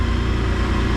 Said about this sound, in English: Engine starts.